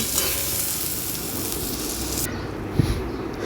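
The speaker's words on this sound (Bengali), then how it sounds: "বেগুনগুলো এবারে লাল লাল ভাজা হয়েছে, এবারে নামিয়ে দেব" Eggplant pieces frying in oil in a wok, a steady loud sizzle that cuts off sharply partway through, leaving a quieter hiss with a brief clatter near the end.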